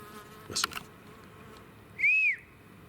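A single short rising-and-falling whistle sounds out in the woods, clear and fairly close, after a brief rustle and against a quiet background.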